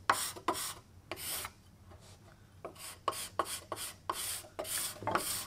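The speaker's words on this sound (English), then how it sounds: "It's called a card scraper." A card scraper works across a wooden curved table leg in a run of about ten short, rhythmic rasping strokes, close by and separated by brief pauses.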